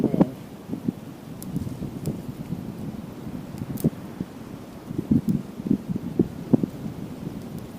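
Wind gusts steadily outdoors on the Pigeon Roost Trail in Arkansas during a solo overnight camp, a low rumbling buffet with irregular stronger bursts throughout, with no talking.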